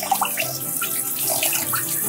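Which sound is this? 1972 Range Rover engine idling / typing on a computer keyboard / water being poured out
water being poured out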